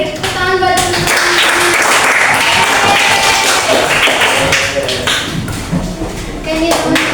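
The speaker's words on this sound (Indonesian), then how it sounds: "Beri tepuk tangan buat teman-teman." A class of students claps loudly and continuously for several seconds, with scattered taps and thumps and faint voices mixed into the applause.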